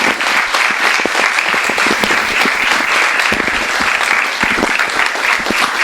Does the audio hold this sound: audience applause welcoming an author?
yes